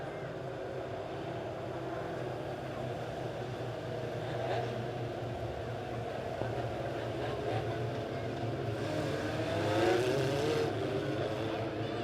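Legend race cars at Springfield Raceway roll toward the start of the A-main, their engines a fairly faint, steady drone with a few swells of revving, as if heard from the grandstand.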